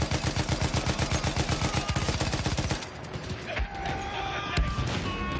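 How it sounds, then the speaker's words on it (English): A machine gun turret in Battlefield 1 fires a loud, rapid, evenly spaced burst for a few seconds, then stops, leaving scattered clatter and distant battle noise. "we're now on the machine gun turret"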